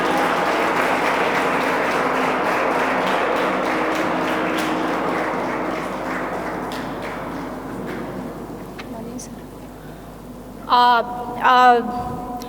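Audience applause at a seminar hall event, a dense, steady wash of clapping that fades gradually toward the end, with a couple of brief voices rising near the close.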